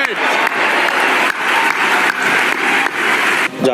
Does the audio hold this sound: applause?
yes